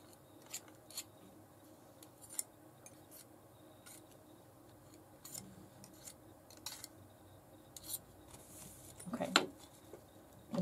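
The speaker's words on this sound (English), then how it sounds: "I'm just going to scrape it with a palette knife and wipe it on some paper towel." Palette knife scraping hardened plastic off a glass cutting board, heard as faint, sporadic scratchy strokes close by, with one louder rasping scrape near the end over a quiet room.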